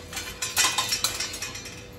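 A frying pan clattering against metal cookware and utensils in a home kitchen: several quick, close clinks and knocks in irregular succession.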